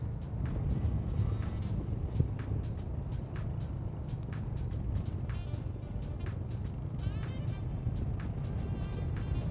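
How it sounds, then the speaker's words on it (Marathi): Motor vehicles rumble along a Himalayan mountain road between Narkanda and Sangla, heard from a motorbike as a steady, close engine drone with wind noise and sharp intermittent ticks, and no talking. "अशा गाड्या पण समोरून येतात"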